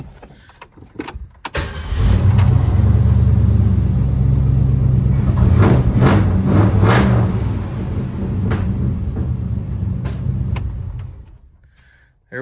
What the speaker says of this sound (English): see how it wants to run with the new carburetor